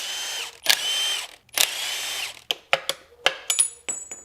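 Power drill backing bolts out of a Nissan VQ40 engine during teardown: two sustained whirring runs, then a string of short sharp bursts as the drill stops and starts, close and loud.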